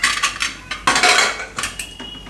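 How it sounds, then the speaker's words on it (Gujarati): A pressure cooker lid is being fitted and locked shut on a kitchen cooker holding potatoes, giving a series of close, sharp metallic clanks and scrapes in quick irregular bursts. "કુકરનું ઢાંકણું બંધ કરીશું."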